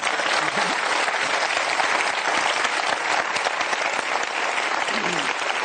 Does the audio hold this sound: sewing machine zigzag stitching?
no